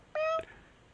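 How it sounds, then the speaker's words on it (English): A single short, clear cat meow, brief and tonal, sounds alone against a quiet background. "Then he heard Filch meow."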